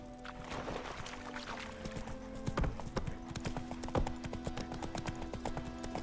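Hooves pound in a quick galloping rhythm as a horse carries Geralt across The Witcher 3 video game, near and fairly loud, with sharp thuds standing out over a steady ambient hum.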